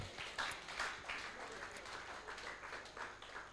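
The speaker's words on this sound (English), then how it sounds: "Please give another round of applause." Dense applause from a large crowd, steady and sustained throughout with no distinct voices.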